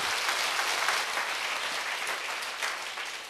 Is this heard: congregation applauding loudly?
yes